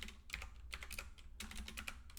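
Rapid bursts of typing on a computer keyboard while entering SQL Server statements, close and clear with short pauses between clusters of keystrokes, no voices.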